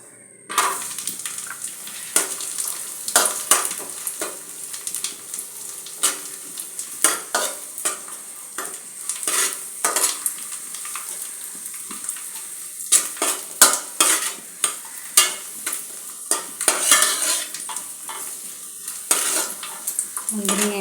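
Raisins frying in ghee left over from roasting cashews, for rava payasam: a continuous close sizzle broken by frequent scraping and clinking as a spoon stirs the pan, with no talking.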